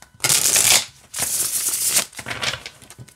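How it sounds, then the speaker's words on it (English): A Llewellyn Tarot of the Owls card deck being shuffled, two long riffling bursts followed by a shorter flutter of cards, close and crisp with no talking. "it shuffles just like all of the other Llewellyn decks"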